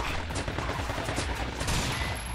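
Sustained gunfire from the video game Binary Domain as aerial units are shot at, a dense continuous burst of rapid shots filling the whole stretch without pause.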